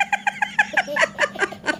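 A person's voice imitates a hen clucking, with a quick run of about a dozen short, close clucks in under two seconds.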